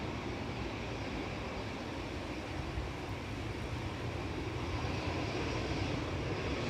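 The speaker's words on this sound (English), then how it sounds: "Flight 943 departing to Frankfurt for Lufthansa there. It's an A319" A Lufthansa Airbus A319 departs Manchester Airport with a steady, broad jet roar that holds at a constant level throughout, heard from a distance with no voices.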